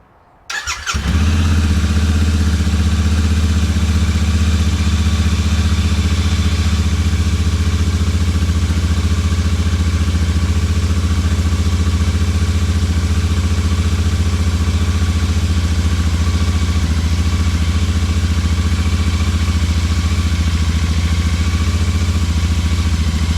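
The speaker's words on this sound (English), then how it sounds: "to hear now is the stock exhaust system on a Euro 5 Interceptor" A Royal Enfield Interceptor 650 Euro 5 with its stock exhaust starts from cold, catching after a brief crank and settling into a loud, steady, even idle recorded close to the bike.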